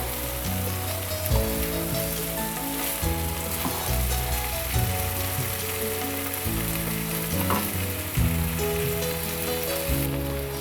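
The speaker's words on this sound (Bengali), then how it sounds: "ঠিক হাই হিটে আছে এরকম ননস্টপ নাড়তে হবে পাঁচ মিনিট ধরে কষাতে হবে" Chicken being stirred nonstop and fried over high heat, a dense, constant sizzle like rain with rhythmic scraping and stirring strokes, close and loud with no talk.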